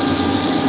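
A grinding wheel cuts into a Pelikan fountain pen nib during an italic regrind, giving a steady, loud, continuous whirring grind with no pauses.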